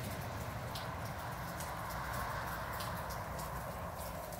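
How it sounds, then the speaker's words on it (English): Light rain falling outdoors, a soft, steady, faint wash with scattered patter of drops and no voices. "And it's official. We have rain."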